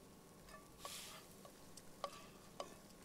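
A Sim cooks scrambled eggs in The Sims 4, with soft stirring and pan sizzle broken by a few small clinks and taps, quiet and without talk.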